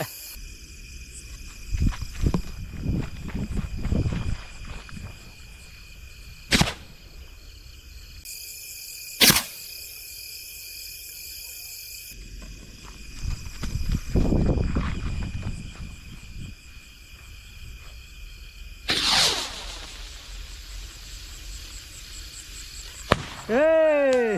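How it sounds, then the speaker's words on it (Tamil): Several sharp bangs from a homemade rocket sky shot firework go off amid background noise, followed by a rising whistle and a crackling burst near the end. "இது பார்த்தீங்கன்னா மேலே போயிட்டு அப்படியே கீழே வந்து வெடிச்சு அப்படியே பொறி பொறியா வந்துச்சு பாருங்க"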